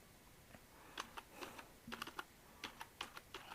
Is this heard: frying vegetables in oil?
no